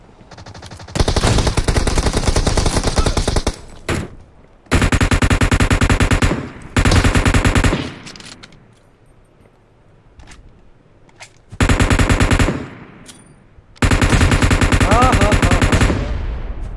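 Gunfire in an online shooter game, loud dense automatic bursts coming in several long volleys separated by short gaps, with quieter game ambience and a voice in between.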